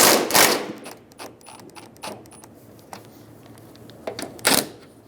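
A nut spins loose off the top of a 2007–2011 Toyota Camry front strut, heard as a series of sharp ratcheting bursts from a power tool with short pauses between them, close and loud.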